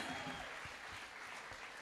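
A church congregation applauding a bishop at an ordination service, a dense burst of clapping from many hands, steady and fairly loud throughout the short moment.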